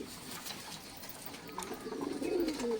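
Soft coos from Madrasi Giribaz pigeons rise near the end over a busy background hum, low and murmuring, with no voices.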